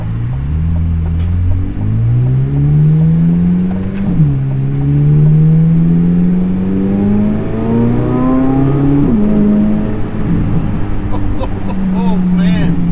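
Chevrolet Corvette Z06 engine revving up through rising pitch sweeps, dropping briefly at shifts around four and nine seconds, then climbing again, loud and close from inside the car, with someone talking over it.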